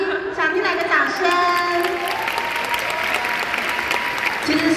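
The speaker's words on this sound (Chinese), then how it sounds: "想听来个掌声" Sustained audience applause fills a hall at a team's 45th-anniversary celebration meeting, loud and steady, with voices calling out over the clapping near the start.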